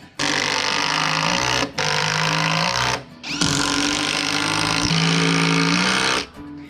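A power driver whines loudly as it sinks 6-inch structural screws into timber frame beams, in four long bursts separated by short pauses, the motor pitch dropping under load near the end of each run.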